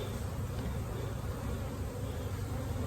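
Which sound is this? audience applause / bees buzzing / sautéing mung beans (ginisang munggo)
bees buzzing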